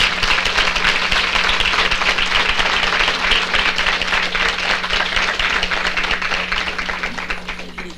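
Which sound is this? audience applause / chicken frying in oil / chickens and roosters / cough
audience applause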